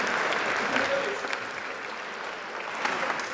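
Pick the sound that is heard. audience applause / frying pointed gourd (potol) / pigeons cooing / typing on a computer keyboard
audience applause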